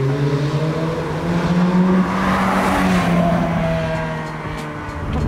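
A Ferrari F430 driven hard, its engine note loud and sustained, rising and falling in pitch across the run with faint tire noise, no talk.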